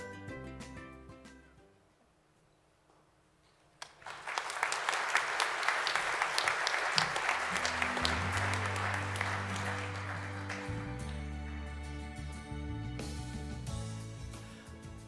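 Sustained audience applause at the 2017 Edelman Gala, swelling suddenly after a quiet pause and holding steady for many seconds, with a low music bed running beneath the clapping.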